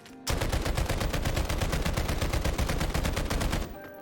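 Rapid automatic weapon fire in Garry's Mod with no recoil, a dense unbroken stream of evenly spaced shots, loud and close, lasting about three seconds before stopping abruptly.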